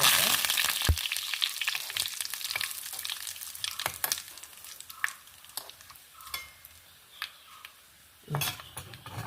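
Mustard seeds sizzling and popping in hot oil for tempering, heard as a close, dense crackle with scattered sharp pops and occasional metal clinks of a spoon against the pan.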